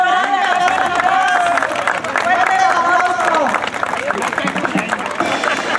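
Audience applauding child horse riders at a Christmas ranch event, dense clapping and crowd noise under an announcer's voice and other chatter.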